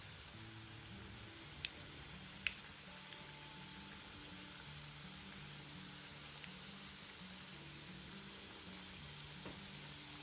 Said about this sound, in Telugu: ఆయిల్ వేడయ్యాక ఇప్పుడు మనం తయారు చేసుకున్న వాటిని వేసి వేయించుకోవాలి.